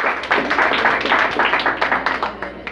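An audience at a school music evening claps, dense steady applause from many hands filling the room at close range, with no voices over it.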